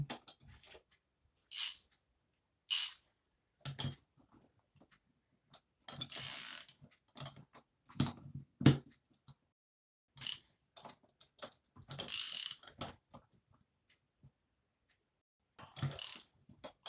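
A tool tightening the crankshaft gear nut on a restored 50cc engine: separated bursts of metallic ratcheting and clicking, close and fairly loud, with silent pauses between them.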